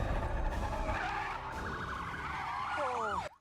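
A car braking hard and skidding, with a long tire squeal rising and bending over loud rumbling noise before cutting off abruptly.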